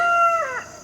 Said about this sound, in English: These are all newer chickens, so we haven't really thought of any names for them yet